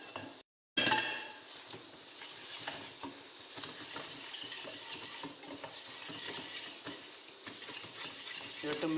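Batter of rice flour and black urad dal mixed in a pan on the stove: continuous close scraping and stirring with soft sizzling and light clinks of utensils, after a brief silence at the start.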